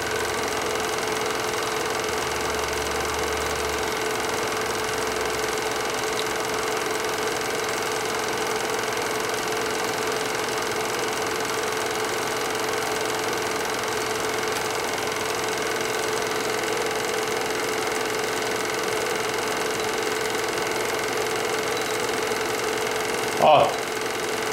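A 1976 snowmobile engine runs steadily through a snowy Wisconsin outing, a continuous mid-pitched drone with a knocking, idling texture that holds evenly throughout, with a brief louder bump near the end.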